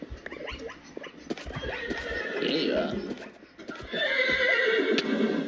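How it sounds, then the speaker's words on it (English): A fiery horse in a modded Minecraft world whinnies loudly and clip-clops along at a gallop, with a person talking excitedly over the game sounds. "Oh my god, I am riding on a fire horse."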